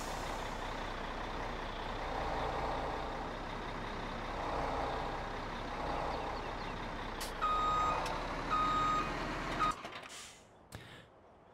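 Truck reversing beeps from the video game Farming Simulator 17, a repeating electronic beep that comes in over a steady engine hum and game ambience before everything cuts out.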